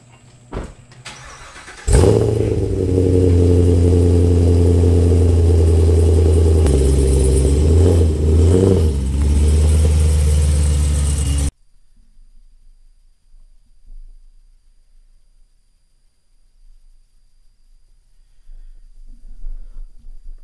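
A 2017 Chevrolet Camaro SS engine barks to life and revs loudly and steadily for several seconds, its deep note rising and falling before cutting off abruptly into near silence.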